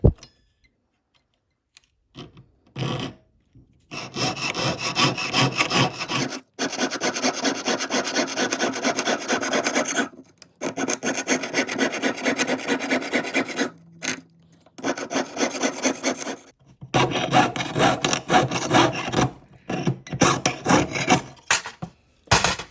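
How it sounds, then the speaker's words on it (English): Steady rasping strokes of a file run along the edges of two clay wall vase parts, coming in long rhythmic bursts separated by brief pauses, close and fairly loud. "Okay, so my next step is to file the edges of my two parts"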